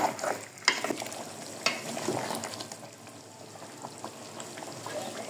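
Beef is stirred together with onion and oil in a hot pan for a spicy cabbage beef dish, with scraping utensil strokes and a few sharp knocks over a soft, continuous sizzle, close and fairly loud.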